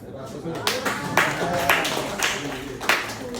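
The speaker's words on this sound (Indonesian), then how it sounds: "Nah, berikan tepukan." Clapping from a small audience at a motivational talk, a few loud, rhythmic claps in an even beat over a murmur of voices in the room.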